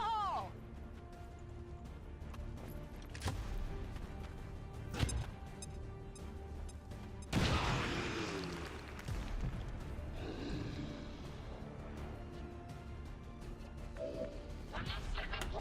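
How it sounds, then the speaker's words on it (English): A grenade detonates in XCOM 2: War of the Chosen, a loud crashing blast with a rumbling tail, surrounded by other game effects and someone talking. "I think I might do the grenade."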